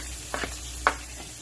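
Garlic sautéing in butter or margarine in a pan, giving a faint, low sizzle with a few brief stirring scrapes, quiet and with no talk.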